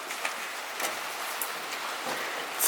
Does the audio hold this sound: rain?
yes